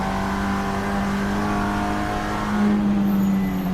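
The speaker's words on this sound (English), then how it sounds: "Let's take a listen to that engine." TCR touring race car engine at the Australian Grand Prix, a steady loud droning note held close with a slight rise near the end, like the driver lifting or fuel saving on the final lap, with no talk over it.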